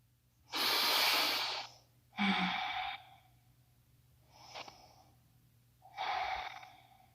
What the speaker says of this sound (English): Another round of breath.